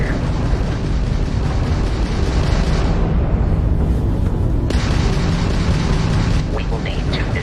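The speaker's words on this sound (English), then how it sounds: "that's a Crimson Fleet ship bringing its weapons to bear" Enemy Crimson Fleet ship weapons fire in Starfield space combat, a loud, dense run of booming blasts and bursts that carries on without letup, with a voice talking over it.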